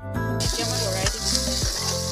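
A spiced mixture with salt, sabzi masala and red chilli powder sizzles and crackles steadily in a pan, with a few scraping stirs cutting through the frying hiss, close and moderately loud with no talk.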